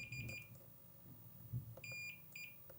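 A multimeter on continuity test beeps several short, bright tones while probing a Commodore 64 power supply circuit board, the beeps spaced irregularly over a faint low hum and light handling noise.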